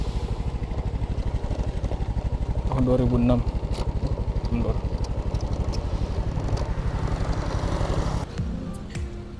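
Old 2006 Honda Supra motorcycle engine running with a steady, fast pulsing drone throughout, briefly louder near the three-second mark, while someone talks over it.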